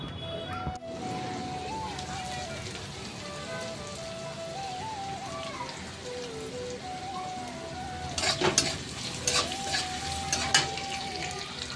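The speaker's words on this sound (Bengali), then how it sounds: "পেঁয়াজ কাঁচা লঙ্কার ওই পাঁচফোড়নটা ভাজা ভাজা হয়ে গেছে, ওর মধ্যে আমি আলুগুলোই দেবো" Onion, green chili and panch phoron fry in a pan with a steady, close sizzle, while a few louder clattering stirs break through near the end and faint voices sit underneath.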